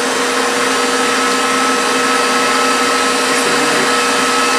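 An electric mixer whirs steadily on high speed while beating gingerbread cheesecake batter, a loud, constant motor drone with no pauses and no talking.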